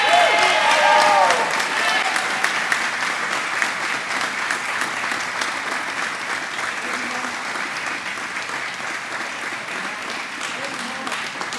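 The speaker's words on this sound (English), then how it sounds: "give a round of applause to those here in the audience today" Graduating class at a 2017 school commencement applauding the audience, a broad sustained round of clapping that is loudest at the start and settles into a steady, slightly fading ovation across the whole stretch.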